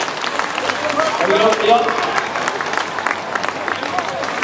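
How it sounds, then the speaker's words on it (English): An audience applauds cyclists at the Tickhill Grand Prix race, a steady wash of clapping and crowd noise with a voice speaking over it. "let's have your round of applause, ladies and gentlemen"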